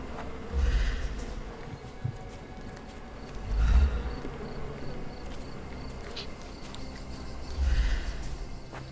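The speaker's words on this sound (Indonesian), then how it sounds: "Ternak lebah." Steady faint buzzing from a bee farm in Sherlock Holmes: Chapter One, an insect drone running throughout, with three heavier low thumps spaced a few seconds apart over a quiet ambient bed.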